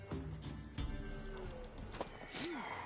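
A mare in The Witcher 3 whinnies and neighs amid clip-clopping hooves, a short rising-falling neigh near the end over faint background ambience.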